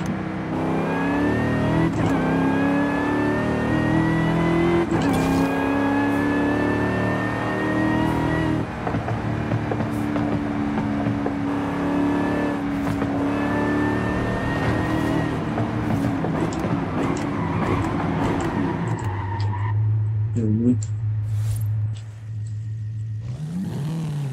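A car engine in Forza Horizon 5 revs and accelerates steadily, its pitch climbing through repeated gear shifts. It stays loud and close throughout and ends with a lower rumbling idle, with no talk.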